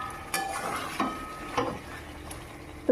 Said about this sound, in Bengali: সেই জন্য চিকেনটা একটু রান্না করছি দুপুরের জন্য।